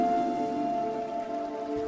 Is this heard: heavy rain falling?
yes